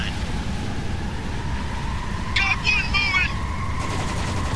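Machine gun bursts crackle in a Spec Ops The Line firefight under a steady noisy bed, with a short rapid burst of shots in the middle while someone talks.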